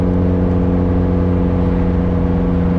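A Mazda Miata with a 1.6L forged compound turbo engine during a street drive, a loud steady droning engine note at constant revs held near throughout, with no voices.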